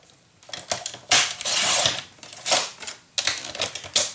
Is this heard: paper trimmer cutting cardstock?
yes